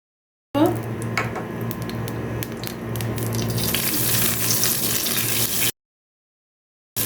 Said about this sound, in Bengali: এখানে আমি কিশমিশ এগুলি একটু ভেজে নিব